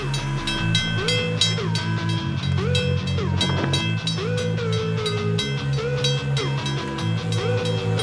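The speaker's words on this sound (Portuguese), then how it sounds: "A locomotiva os varre lançando avalanches de neve para os lados." A freight train locomotive ploughs through deep snow, its steady loud rumble and rolling rail noise continuous throughout, with tonal horn-like harmonics and a brief burst of rushing noise in the middle.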